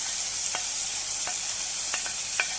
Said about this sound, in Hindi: अब हम इन वेजिटेबल्स को फ्राई करेंगे